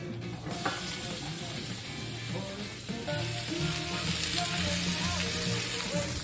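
Sliced onions sizzle steadily in oil in a skillet, a fairly quiet continuous frying hiss with light clinks and scraping from stirring, growing slightly louder partway through.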